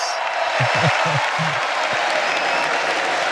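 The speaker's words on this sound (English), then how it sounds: "Oh, the crowd goes nuts." A convention hall crowd at a political national convention roars with sustained applause and cheering, a dense wash of clapping filling the whole moment, with a few low vocal bursts near the start.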